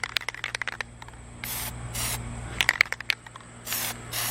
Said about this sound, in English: I may or may not have sprayed the hell out of that emblem